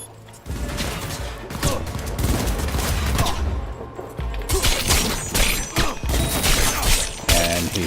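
Enemy gunfire in the Cyberpunk 2077 video game: sustained, loud volleys of rapid shots with crashing impacts, rolling almost continuously and pausing only briefly.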